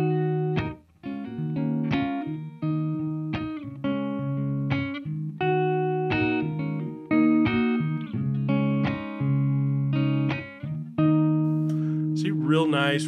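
Clean electric guitar picked with the fingers through a Soldano Astro-20 amplifier, ringing chords and plucked notes, steady and unhurried, with a brief sliding squeal at the end.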